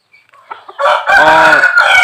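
A rooster crows once, loud and close, after a few soft clucks and rustles.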